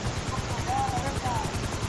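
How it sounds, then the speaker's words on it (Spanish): Helicopter in GTA V, a steady rotor drone and engine rumble running throughout, with a faint tone rising and falling briefly over it. "Súbete al helicóptero"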